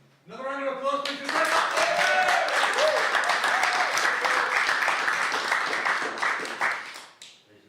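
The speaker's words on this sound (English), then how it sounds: "Another round of applause, please." Audience applause at a live event: a brief vocal cheer leads into a dense, steady burst of clapping that holds loud for several seconds and then tapers off.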